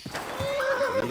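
A horse in the medieval video game Kingdom Come: Deliverance II gives a single short, close neigh with a quavering tremolo, over light hoof and ambient noise.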